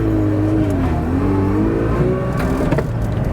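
A Mazda RX7 engine revs hard with the pedal floored but stalls out near 4000 rpm, a loud, steady, droning roar close by that holds flat without climbing.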